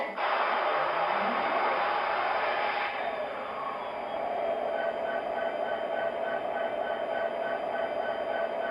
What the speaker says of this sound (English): apply power to the track and we'll get the train rolling